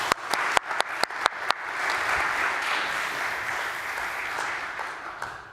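A few sharp individual claps quickly swell into steady audience applause for a speaker at a blockchain conference, sustained and fairly even before fading slightly.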